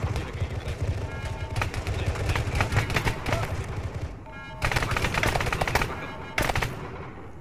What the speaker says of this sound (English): Something is firing at us.